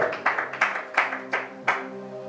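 A church congregation claps together in praise, about six sharp, evenly spaced claps ringing out in a steady rhythm, moderately loud with a sustained tone lingering underneath.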